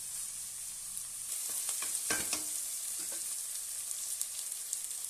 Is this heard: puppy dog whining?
no